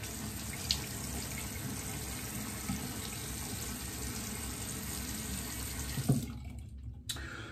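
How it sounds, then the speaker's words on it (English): Tap water runs steadily into a bathroom sink while a face is wetted for a shave, close and constant with a few splashes, then shuts off near the end. "I'm gonna wet my face and we'll get right into things."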